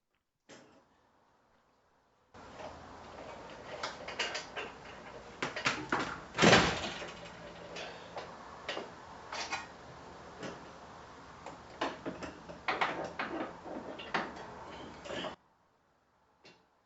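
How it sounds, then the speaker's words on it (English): A long-handled torque wrench ratchets on hitch bolts during a hitch install on a 2024 Ford Escape, making a string of close, uneven metallic clicks and clunks, with one louder knock partway through. "get the head of my long-handled torque wrench in there to get access to those bolts and really get the bolts torqued to specification"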